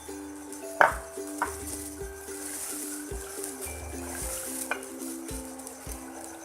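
Chopped green chilies dropped into a hot pan of frying potato and broad bean sabzi and stirred; a continuous close sizzle with a few spoon scrapes and knocks against the pan, no voices.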